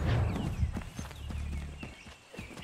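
Horse hooves in the video game Assassin's Creed 3 clop in a loose, uneven rhythm over a low rumble, fairly close and steady for a few seconds.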